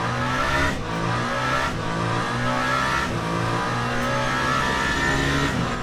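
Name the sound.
hypercar engine passing in the video game Le Mans Ultimate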